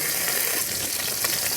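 Koi fish frying in hot oil in a village kitchen, a steady dense sizzle with crackling spits running continuously at close range, no voices.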